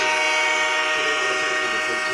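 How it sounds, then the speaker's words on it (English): A train horn blares through a live fan stream of a Buffalo Bills versus Kansas City Chiefs game, a loud, steady, chord-like blast sustained for the whole stretch without a break. "There's the train horn, Pete. We got the train horn for you"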